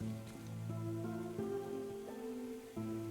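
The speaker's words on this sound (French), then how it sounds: "De la pluie." Rain falls in the video game One Lonely Outpost as a soft, steady hiss beneath a calm, sustained musical tone, quiet and unbroken.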